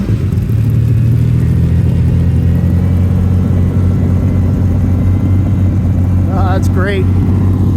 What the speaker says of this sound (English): Oh, look at this, the Lamborghini's going.